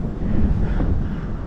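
Steady wind buffets the microphone at an open hiking viewpoint, a continuous low rumbling roar that stays loud and close for the whole moment with no voices.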